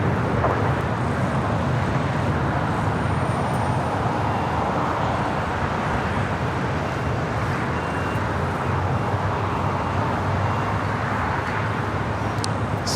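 An airliner takes off from runway 25 Right at LAX, a steady, unbroken broadband jet roar heard from a distance, with no other sounds standing out.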